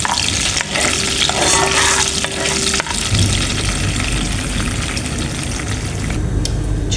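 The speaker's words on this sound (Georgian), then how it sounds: "აქეთ ვწვავ კარაქს" Butter melting and frying in a pan at home, a steady broadband sizzle with stirring scrapes throughout, close and fairly loud, with no talk.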